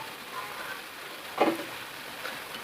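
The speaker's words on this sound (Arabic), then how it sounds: "الطاجين ديالنا ها هو كيطاوي على خاطرو" Meat tagine simmering gently, a soft steady sizzle and faint crackle under a low hiss, with one brief louder pop partway through, quiet and close with no talking.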